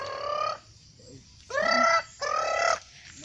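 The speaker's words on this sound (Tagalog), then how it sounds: "Manok na puruhan." Chicken clucking in short, loud, drawn-out calls, three bursts with a brief soft note between them, close by over a quiet background.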